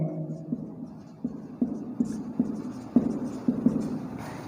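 Chalk or marker strokes on a classroom board during a Hindi-language maths lesson on indices and surds, about nine short taps and scrapes in a steady rhythm, close and fairly quiet, with no talk.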